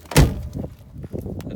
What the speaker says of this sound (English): The door don't shut.